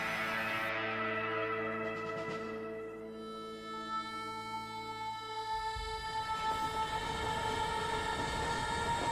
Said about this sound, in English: On the train he goes back to the town where he lost his family at.